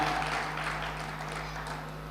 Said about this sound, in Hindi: मैं वो जरा जोरदार तालियां बजाइए